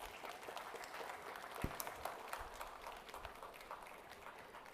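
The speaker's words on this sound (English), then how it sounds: "May we have a big round of applause" Applause from the audience at a foundation day ceremony as a doctor is presented a token of appreciation: scattered, uneven clapping, quiet and distant, with a few sharper individual claps standing out.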